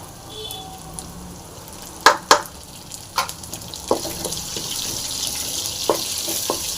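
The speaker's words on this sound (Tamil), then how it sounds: "வெங்காயம் நல்லா ஃப்ரை ஆகட்டும்" Onions, curry leaves and chillies fry in a pan with a soft, steady sizzling hiss, broken by a few sharp clinks and taps of stirring, moderately close.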